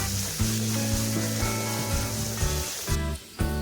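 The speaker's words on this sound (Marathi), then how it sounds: "मी दोन चमचे तेल टाकले आणि त्याच्यात मसाला फ्राय करून घेते" Masala frying in two spoons of hot oil for dhaba-style masala bhindi gives a steady close sizzle with crackling texture, broken by a few short stirring scrapes and a brief lull near the end.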